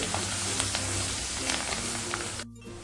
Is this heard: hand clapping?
no